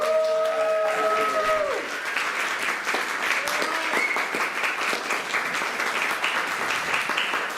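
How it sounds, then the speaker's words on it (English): An audience at a Bishopsgate Institute archive launch in London breaks into sustained applause, dense clapping that holds steady for several seconds, with a voice trailing off at the very start before the clapping takes over. "Can we have a massive round of applause for Steph Dickens, who's the lead archivist at Bishopsgate Institute?"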